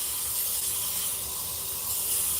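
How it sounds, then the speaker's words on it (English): Continuous close-up sanding of a turned cherry wood spice jar at 320 grit, a steady abrasive rubbing hiss with no pauses and no voices. "I'm going to sand it at 320"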